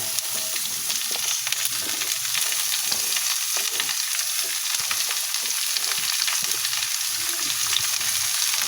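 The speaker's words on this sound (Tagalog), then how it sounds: "Gigisahin lang po muna natin ito bago natin lagyan ng toyo." Papaya sautéing in a hot pan crackles with a steady sizzle while it is stirred, close and continuous with no talk.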